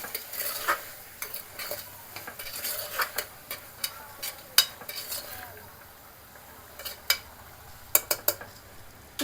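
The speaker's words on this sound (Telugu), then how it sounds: "ఇదంతా మొత్తం మరొకసారి కలుపుకోవాలి." A spoon scrapes and clinks around a pan of chickpea curry with spices, making repeated close metallic knocks and scrapes over a faint, steady sizzle.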